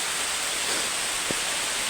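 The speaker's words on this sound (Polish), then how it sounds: "Pada." Steady rain hisses down through tree leaves and branches in a mountain forest, a dense even patter close by with one soft thud of a heavier drop.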